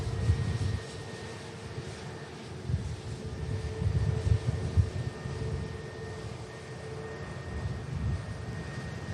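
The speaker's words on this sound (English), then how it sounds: "I just got a glimpse of the Sun Express taxiing back out for the return leg to Antalya as well" A Sun Express airliner taxis at Manchester Airport, its engines a steady low rumble and whine at a distance that swells and eases slightly over several seconds, with no voices.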